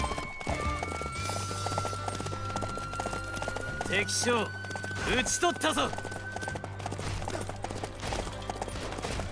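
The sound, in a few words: horse hooves in video game Samurai Warriors 5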